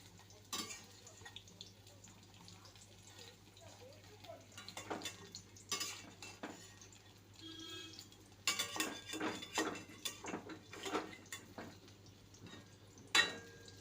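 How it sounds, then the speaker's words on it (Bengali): Ridge gourd fritters fry quietly in a pan while a spatula scrapes and clinks against the metal, with sharp irregular knocks as they are turned over and a faint sizzle between. "এক দিকটা ভাজা হয়ে গেছে এবার এটাকে উল্টে দেবো"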